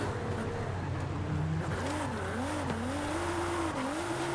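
Nissan 350Z drifting in the video game Forza Horizon 5, tires squealing in wavering, rising and falling tones over a steady engine hum, fairly quiet and continuous with no talk.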